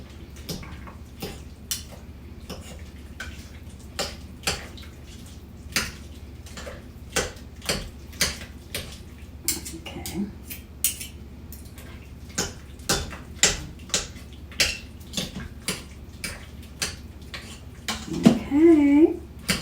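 Two metal forks tearing apart Instant Pot chicken in a pot, a long run of irregular scraping clicks and taps against the metal, close and fairly quiet, with a brief voice near the end.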